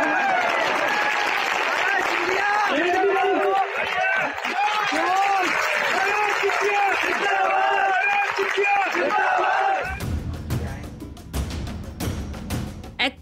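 Applause and cheering from a crowd at an election by-election rally in Madhya Pradesh, sustained and loud for about ten seconds before giving way to sharp bursts and handling noise.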